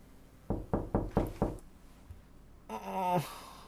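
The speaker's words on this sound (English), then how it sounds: "Oh, there's the knocking." Five sharp, evenly spaced knocks ring out in the Mandela Catalogue analog horror piece, loud and close in an otherwise quiet space, followed by a brief rising electronic tone.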